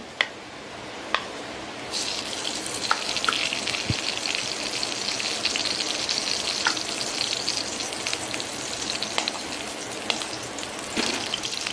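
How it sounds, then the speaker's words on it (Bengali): Four tablespoons of ghee heating in a kadai on a gas stove for a chana dal sweet, a steady close sizzle with scattered small pops and crackles that grows louder after the first couple of seconds. "এই কড়াইয়ের মধ্যে আমি 4 টেবিল চামচ ঘি দিয়ে দিচ্ছি"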